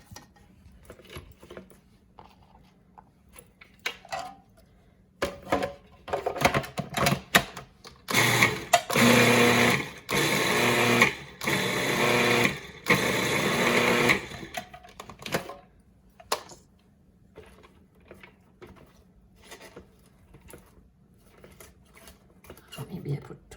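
Indian mixie grinder blending coriander chutney with chopped onion, a loud rough grinding burst in short pulses lasting several seconds, framed by quieter kitchen clatter.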